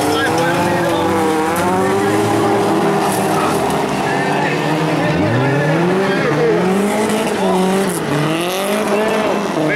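Junior race cars at a national junior final roar around a track, several engines buzzing and revving in overlapping rising and falling tones, loud and continuous, with a commentator talking over them.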